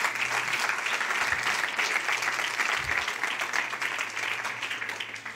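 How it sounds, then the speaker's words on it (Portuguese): Loud, dense applause from a large congregation at a preaching event, a steady wash of clapping that stays full throughout over a low constant hum. "Você pode aplaudir mais forte se for para Ele"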